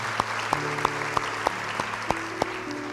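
A church congregation claps along in a slow, regular beat of about eight distinct claps over a sustained organ or keyboard chord, moderately loud and close.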